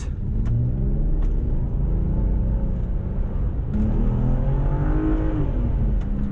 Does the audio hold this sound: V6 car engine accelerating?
yes